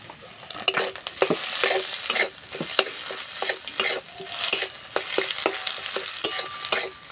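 A pan of spices cooks with curry leaves: red chilli, cumin and turmeric powders fried dry while a spoon scrapes and knocks repeatedly against the pan over a soft, steady sizzle, with irregular close stirring strokes and no speech.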